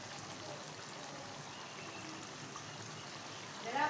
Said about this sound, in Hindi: अब इसमें मैं 2 गिलास पानी डालूंगी इतना कि गोश्त गल जाए।